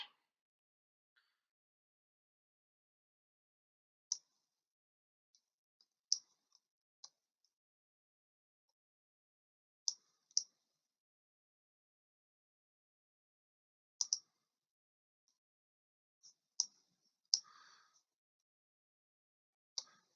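A computer mouse clicks while stepping through the years on historic topographic maps, giving sparse, sharp single and double clicks spaced several seconds apart in near silence.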